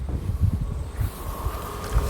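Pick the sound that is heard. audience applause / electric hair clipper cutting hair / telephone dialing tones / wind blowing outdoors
wind blowing outdoors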